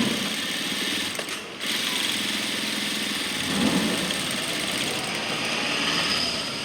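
A sewing machine stitching a shirt collar runs as a steady mechanical whir with a fine rapid needle rhythm, briefly dipping near the start before carrying on evenly and close, with no speech.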